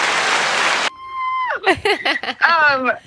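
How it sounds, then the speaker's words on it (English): A crowd breaks into loud, dense applause for just under a second, then cuts off abruptly as nearby people start talking and chuckling. "we got some massive applause going"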